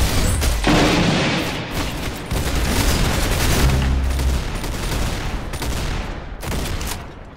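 Rapid bursts of gunfire from a shooter video game crack across the whole stretch, dense overlapping shots with short pauses and booming impacts, loud and close.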